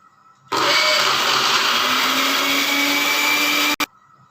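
Bread pieces ground into crumbs in an electric kitchen grinder: a loud, steady whirring motor buzz switched on for about three seconds, then cut off abruptly.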